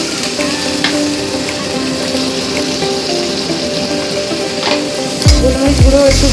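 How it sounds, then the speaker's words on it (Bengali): Spices and ground black pepper fry in fish oil with a loud, steady sizzle that swells into a stronger, bubbling hiss near the end. "তো মাছের তেলেই আমি মশলাটা দিয়ে দেবো"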